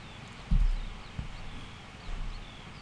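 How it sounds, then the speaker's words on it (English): A horse defecating in the video game Mortal Online makes a soft, low thump just after the start, followed by a fainter thud and a later murmur over a steady ambient game background. "That sound that you hear when your horse does a poop."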